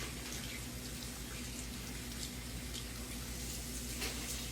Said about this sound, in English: I pick up each leaf, let the water run over it good, like that.